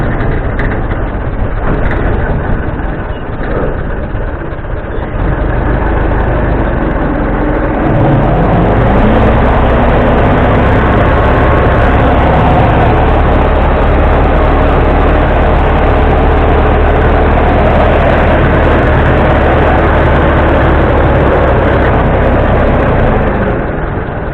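A Ford Model T tow truck engine runs steadily in high gear, giving a continuous, loud, low mechanical rumble with a constant drone throughout and no voices.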